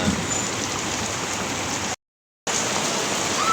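Heavy rain pours down in a steady, dense hiss under a dark sky, continuous and close, with a brief total dropout in the middle before the downpour resumes.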